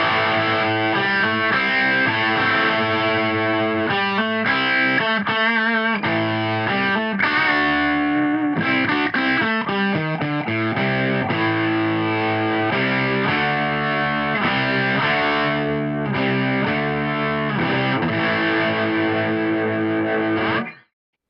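A BC Rich Warbeast electric guitar played through its bridge pickup with distortion, a continuous riff of chords and single notes while the tone control is swept, loud and up close, with no talking, ending abruptly.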